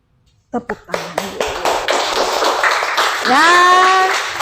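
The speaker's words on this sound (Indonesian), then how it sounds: "Tepuk tangan." Children in a classroom clap their hands in a burst of loud, quick claps, then break into a loud, drawn-out group shout right after.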